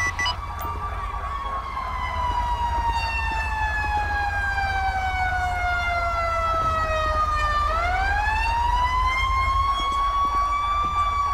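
An ambulance siren in GTA 5 wails continuously, its pitch sliding slowly down, then sweeping back up into another long cycle over a steady low engine drone.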